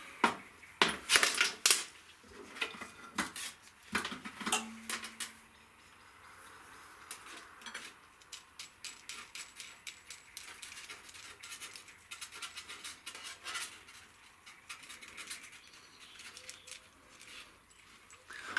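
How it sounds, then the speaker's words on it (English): Close metallic scraping, clicking and light tapping of a nut and washer being unscrewed from a Classic Mini choke cable, faint and intermittent with a few louder clinks early on. "Just unscrewing the nut and washer from this side"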